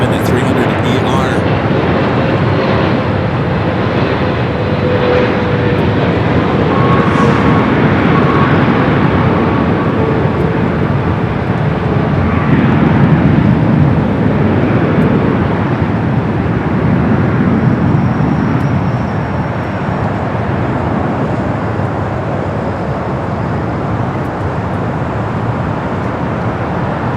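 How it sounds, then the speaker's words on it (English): A Boeing 777 bound for Honolulu takes off down runway 25 right at LAX, its broad engine roar steady and loud for the whole stretch, blended with airport rumble. "That 777 heading to Honolulu, rolling down that 25 right."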